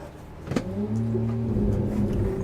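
A BMW M4 tuned past 1000 horsepower in a racing game gives a sharp thump, then its engine climbs in pitch as it revs into a steady, close drone.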